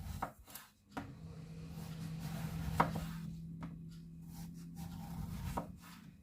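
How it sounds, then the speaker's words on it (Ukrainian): A knife cuts eggplant into thin strips on a board, with a handful of sharp chopping taps spread irregularly over a low, steady background hum, close and moderately loud. "І тепер нарізаємо"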